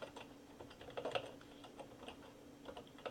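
Quiet, rapid keystrokes on a computer keyboard while entering references, a close, irregular patter of light clicks with a few brief bursts, faint and without voices.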